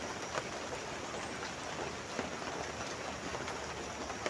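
Steady rain falls outdoors in an even, hissing wash of sound with no breaks, moderately loud throughout and no voices over it.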